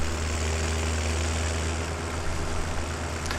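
A Massey Ferguson tractor in Farming Simulator 17 idles with a steady, deep diesel rumble and a constant drone, close and unbroken, with no talk.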